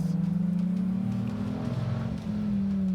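A Dodge Viper ACR engine drones loudly and steadily at high revs, around 4,000 RPM, its pitch holding then dipping slightly before climbing again, no voices present.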